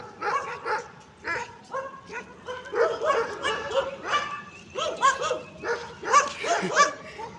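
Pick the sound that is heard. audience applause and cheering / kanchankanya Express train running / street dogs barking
street dogs barking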